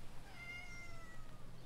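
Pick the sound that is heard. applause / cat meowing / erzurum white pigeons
cat meowing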